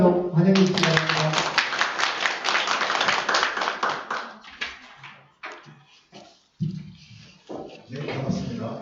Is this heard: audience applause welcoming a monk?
yes